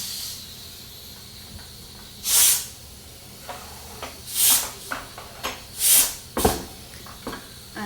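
Steam hisses from the valve of a pressure cooker in four or five loud, separate bursts, each lasting about half a second to a second, with quieter kitchen clatter and a low background hum in between.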